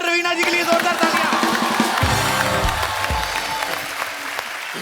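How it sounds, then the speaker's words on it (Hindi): Studio audience applause on a Hindi comedy show, loud dense clapping from a crowd with musical stings mixed in, continuing steadily throughout. "ब्रावो रवीना जी के लिए जोरदार तालियां"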